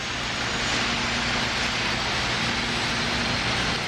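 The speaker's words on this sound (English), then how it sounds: "each of the SR's huge power plants requires a jump start from 2 454 cubic inch Chevy engines." Ground-start carts powered by twin 454 cubic inch Chevy engines jump-start an SR-71 Blackbird's engines, making a loud, continuous, dense roar and whine that is steady and close with no break.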